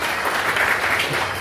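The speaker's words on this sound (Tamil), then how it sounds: "அனைவரும் கரகோஷங்களை எழுப்பி" Steady audience clapping at an award ceremony, a dense even wash of many hands applauding throughout the short stretch, with no voices over it.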